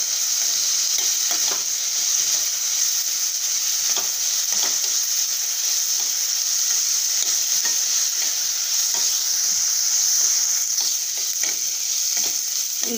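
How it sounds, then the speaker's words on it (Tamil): Onions sauté in a pan for paneer gravy with a steady, close hiss of frying that never lets up, broken by scattered soft scrapes of stirring and no voices. "இது கொஞ்ச நேரம் நல்லா வதங்கட்டும்"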